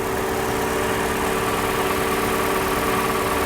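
A 2.5-liter four-cylinder car engine idles steadily with the hood propped open, a smooth, even hum with a low rumble that holds constant and close throughout, no voices over it.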